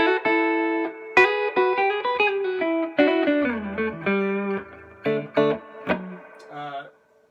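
Electric guitar played through a Vintage Sound Amps Vintage 20 amp with reverb at 4 and the dwell knob at half, ringing single notes and short phrases with a clear reverb tail that trails off into silence.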